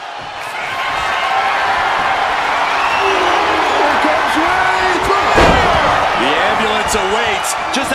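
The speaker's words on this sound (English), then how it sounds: "Power slam." A wrestling power slam in the WWE 2K25 video game: a heavy thud on the mat lands partway through, set against a roaring arena crowd, with voices talking over the noise.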